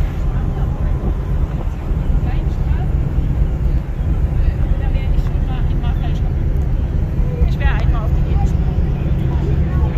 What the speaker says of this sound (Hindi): जहाज़ जो है ना बिल्कुल पोर्ट छोड़ने के चक्कर में है।